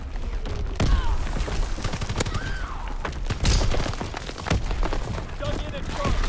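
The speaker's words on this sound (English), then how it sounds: "Firing primary battery." A naval artillery battery fires in Call of Duty WWII, heavy booms and gunfire thudding repeatedly through a loud, dense battle soundscape, with a radio voice talking over the barrage.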